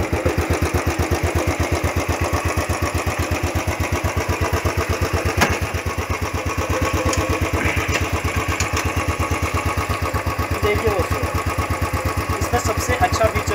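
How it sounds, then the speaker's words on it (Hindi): Up close, a Royal Enfield 500cc motorcycle idles with a loud, rapid, very regular thump-thump beat that holds steady the whole time. "गाइस, बाइक स्टार्ट हो चुकी है।"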